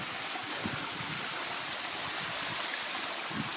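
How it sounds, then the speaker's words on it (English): A waterfall in a canyon roars with a constant, dense rush of falling water, loud and close, with no other sounds standing out. "I found this waterfall"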